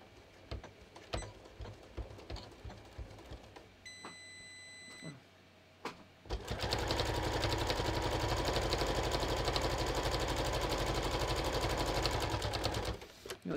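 Sewing machine stitching a welt pocket at a short stitch length: scattered small clicks and a few beeps give way to a loud, steady motor whir with rapid needle chatter lasting about seven seconds, then stopping.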